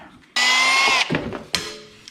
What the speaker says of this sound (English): So then we start drilling all these holes out